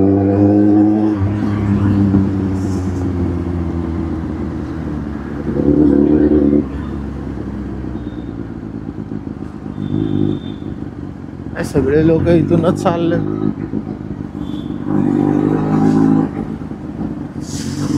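Road traffic of cars and motorcycles moves past on a rainy street where underground work is under way, with engines rising and falling and a motorcycle revving nearby, mixed with people talking throughout.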